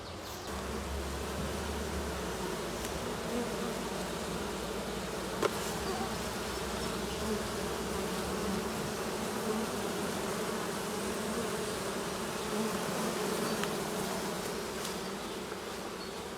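A swarm of honey bees clustered at an apiary after swarming produces a dense, steady buzzing that holds evenly throughout, close and continuous with no voices.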